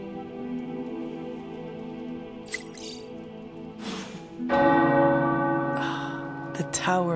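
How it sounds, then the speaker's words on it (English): Church tower bells ring with clear, sustained metallic tones. Fresh strikes land at irregular intervals, with a louder, fuller peal midway, and their resonance lingers and overlaps between strikes. "The tower bells are ringing."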